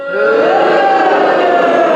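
A school play audience boos together, making a loud sustained jeering crowd noise that lasts about two seconds with no break.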